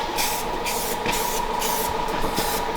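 An aerosol can sprays paint over a fresh weld on a car chassis in a workshop, a steady close hiss that keeps going, broken by small pauses and clicks of the nozzle.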